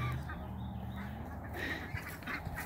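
Farmyard ducks quack in short, scattered calls near a fence being put up outdoors, fairly faint and mixed with background voices and outdoor noise.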